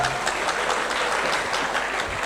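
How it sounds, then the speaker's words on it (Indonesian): Lively applause from an audience, a brief burst of dense, even clapping with no voices over it. "Oke, tepuk tangannya meriah."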